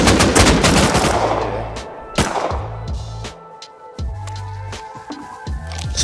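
Gunfire on the cargo ship in the video game Rust Console Edition: a dense burst of rapid automatic shots at the start, then scattered single and short repeated shots, loud and close.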